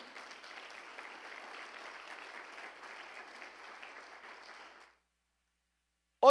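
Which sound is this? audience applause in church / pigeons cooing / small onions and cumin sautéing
audience applause in church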